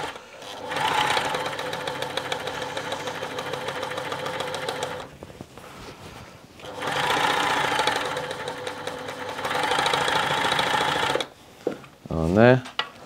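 Tony CM 500 sewing machine stitching a blind hem, running in two long steady bursts of rapid mechanical whirring with a pause between, then stopping with a short squeaky rising sound at the end.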